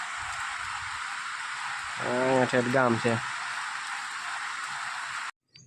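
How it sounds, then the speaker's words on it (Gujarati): Rain falls on village farmland in a steady, dense hiss, with someone speaking briefly over it midway. "મસ્ત વરસાદ આવ્યો છે"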